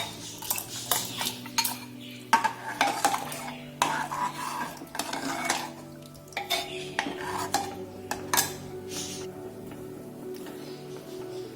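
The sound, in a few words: adding drumstick pieces into a pot for sambar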